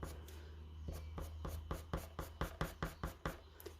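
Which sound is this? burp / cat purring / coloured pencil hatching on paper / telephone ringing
coloured pencil hatching on paper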